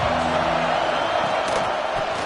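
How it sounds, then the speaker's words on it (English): A stadium crowd at a football game roars and cheers in a dense, continuous wall of sound, with a few shouts standing out briefly near the start. "This crowd trying to show them what it's going to be like all day in this house"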